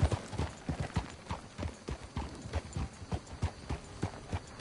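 In the video game Red Dead Redemption 2, a horse walks with a steady, even clip-clop of hooves, clear and fairly close throughout, with no talking over it.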